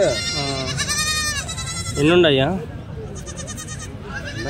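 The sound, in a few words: goats and kids bleating at a livestock market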